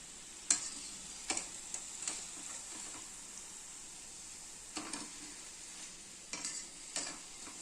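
Beetroot kola urundai balls frying in oil in a kadai give a faint, steady sizzle, broken by scattered soft clicks and pops from the pan.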